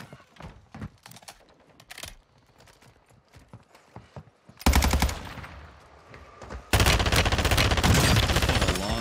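Automatic rifle fire in Warzone 2 at Vondel Park, sparse shots and clicks at first, then loud sustained bursts that hit suddenly and keep going, with little talking.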